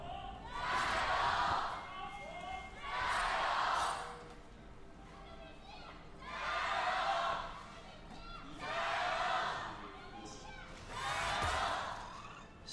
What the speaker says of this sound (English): You can hear the crowd live and alive here to be supporting their teams